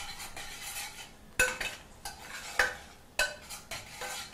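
Vegetables coated in tomato paste with onion and butter are stirred in a pan for a classic brown sauce: a few sharp scraping strokes over a soft background sizzle, close by, with no voices.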